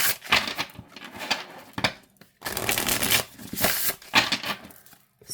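A tarot deck is shuffled by hand in quick bursts of crisp riffling and patter, with brief pauses between rounds and no talking.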